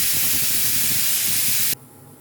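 A pressure cooker of ivy gourd and toor dal releases steam in a loud, steady, close hiss that stops abruptly, leaving quiet kitchen background.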